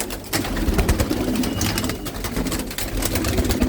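Blue-footed pigeons with red eyelids, a fine breed, coo in soft, repeated low calls among rustling and faint background noise, fairly close.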